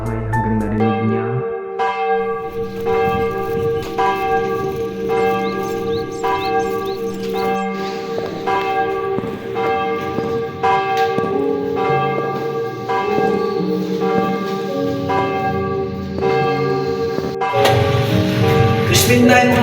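Church bells ring continuously and loudly, their overlapping tolls sustained for the whole stretch with steady rhythmic strikes, in a short film set in the Philippines.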